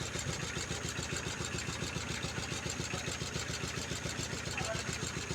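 A vehicle engine idles steadily in Reddigudem, opposite a Union Bank, with a fast, even throb that stays close and continuous throughout.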